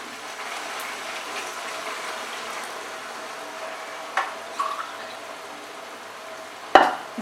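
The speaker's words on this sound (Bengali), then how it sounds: "দু কাপ জল অ্যাড করলাম।" Water is poured into chicken frying for a Kolkata-style rezala, bringing a steady, soft sizzle and bubbling with a few brief clatters and a sharp knock near the end.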